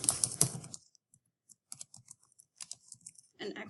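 Keys tapped on a computer keyboard while a title is entered, a sparse run of quiet, irregular clicks and taps after a brief louder burst at the start, close and without talk.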